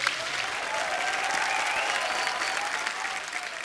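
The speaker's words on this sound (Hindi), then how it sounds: "एक बार फिर से तालियां बनती हैं।" Steady, dense applause from a TV comedy show studio audience fills the whole stretch, sustained and even without a break.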